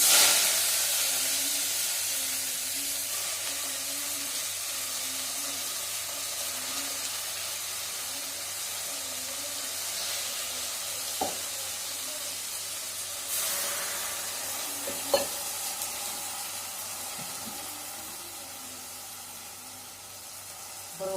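Spinach fries in a pan with dried red chillies and cumin, giving a steady, soft hiss and sizzle with a few faint clinks, no talking.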